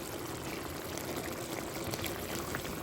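A chicken dish boils in a pot, giving a soft, steady bubbling hiss that stays faint and even throughout, with no voices.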